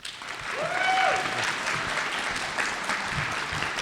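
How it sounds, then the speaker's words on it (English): Audience applause for speaker Bill Gardner, dense clapping swelling quickly and holding steady, with a voice rising briefly over it early on and faint talk underneath. "let's give him a round of applause"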